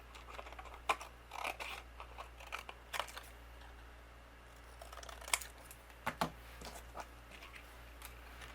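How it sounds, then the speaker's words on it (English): Scissors trim white cardstock to make a card background: a series of sharp, close snips at an uneven pace over a steady low room hum. "I'm just going to use my scissors, and I'm going to trim a background for this."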